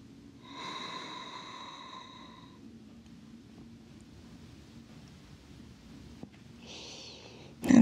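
Forceful yogic breathing during an Uddiyana Bandha practice, with a long hissing exhale, a quiet hold, then a short inhale and a sharp breath at the end, close and alone.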